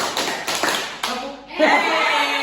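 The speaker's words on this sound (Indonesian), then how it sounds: "Tepuk 1, tepuk 2, tepuk 3, tepuk 4" Hands clapping in a small group counting exercise, a few sharp claps in a rhythmic sequence over the first second, followed by a softer, noisy swell of voices or movement.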